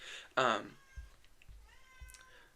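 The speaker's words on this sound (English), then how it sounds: "Oh, there's my cat." A house cat gives one loud, clear meow close to the microphone, followed by faint softer sounds and a few low thumps in an otherwise quiet room.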